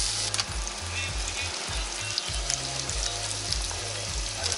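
Steady sizzling of fish frying in a pan at a seaside street café in a Chilean coastal village, continuous and close, with low clattering and background rumble but no speech.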